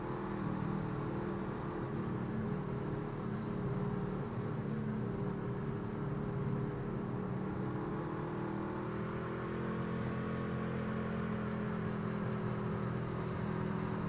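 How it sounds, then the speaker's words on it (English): Off-road race truck engine at a Kern County race, a steady, faint, distant droning whine held at full power without easing off, its pitch shifting slightly as the truck goes around the laps. "We are going to have a listen to this truck go around"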